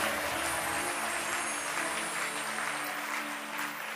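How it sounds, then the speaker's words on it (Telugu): An audience claps loudly and continuously, a dense, steady wash of applause with no pauses throughout. "గట్టిగా చప్పట్లు కొట్టాలి."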